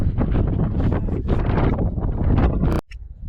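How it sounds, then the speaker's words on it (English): Strong, continuous wind on a mountain col in Colorado's Gore Range buffeting the microphone with a roaring, gusty rumble, loud and close, dropping off suddenly near the end. "down to the Col, which is a little windy."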